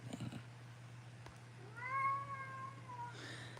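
A cat lets out a single drawn-out meow, clear and fairly close in a quiet room with a steady low hum, after a brief rustle at the start.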